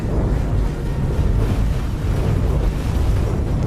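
Ship weapons fire and explosions in the space game X4: Foundations, a dense, continuous low rumble of blasts and booms that stays loud and steady throughout, with no voices.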